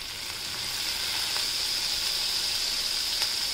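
Vinegar hits a hot pan of chopped ginger for Indo-Chinese dragon chicken and sets off a steady, bright sizzle. The hiss holds close and even for the whole stretch, with a few faint crackles and no voices.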